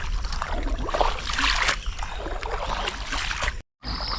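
A boat moving across open water on a camping trip, a continuous washing and rushing of water with low rumble, briefly cut to silence near the end.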